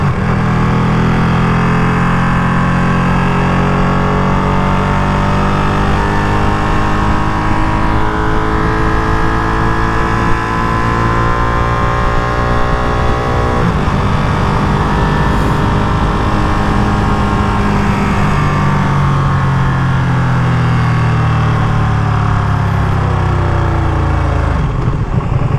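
A 2023 limited-edition Ducati Panigale V2 Troy Bayliss sport bike carries its rider along, the engine droning loud and steady throughout, its pitch rising and falling with throttle and gear changes, with constant wind rush over it.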